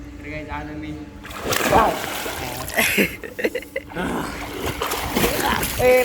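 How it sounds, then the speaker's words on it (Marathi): Water splashing and sloshing in a swimming pool, with irregular close splashes and churning throughout, heard under ongoing voices of people talking and calling out. "उडू नको पाणी"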